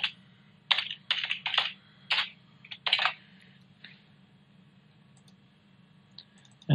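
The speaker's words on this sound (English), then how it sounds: "double clicking on the beat here" A computer mouse and keys click during analysis of a Holter heart recording, with quick clusters of sharp close taps, including double clicks, then pauses over a faint steady hum.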